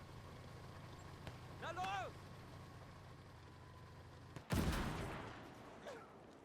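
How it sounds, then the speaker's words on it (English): WWII battlefield gunfire in a hardcore war game, scattered shots rattling in the distance before a sudden loud burst of fire that tails off, over a constant low rumble of vehicles and engines. "A lot of shooting going on too, by the way."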